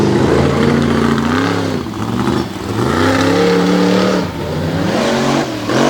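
The Black Stallion monster truck roars around a dirt track at a monster truck show, its engine revving loudly and rising and falling in pitch in repeated surges, close and dominant.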